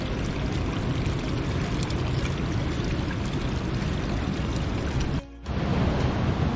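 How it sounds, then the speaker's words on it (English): Water from a mountain spring on the Bali Pass trek gushes and splashes continuously into a container, a steady broadband rush that briefly cuts out near the end before resuming. "let's fill some water from the mountain"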